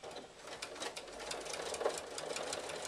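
A sewing machine stitching a front fabric piece onto a soft-and-stable lined iPad case, a quiet steady rapid whirring with regular stitch pulses, heard alone.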